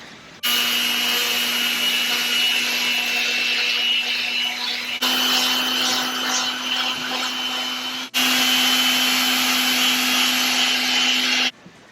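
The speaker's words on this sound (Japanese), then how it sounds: "パテが硬化したので600番のペーパーで磨いていきます。" Hardened putty on a DIY bumper guard is sanded with 600-grit sandpaper, making a loud, steady abrasive rush with a constant hum that runs in three long unbroken passes with short breaks between them.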